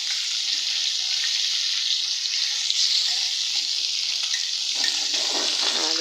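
Tilapia fish frying in hot oil, a loud, dense, steady hiss of sizzling heard up close and unbroken for the whole stretch, with no voices.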